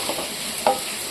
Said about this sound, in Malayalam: ഉള്ളി, പച്ചമുളക്, കറിവേപ്പില എല്ലാം കൂടെ ചട്ടിയിലോട്ട് തട്ടി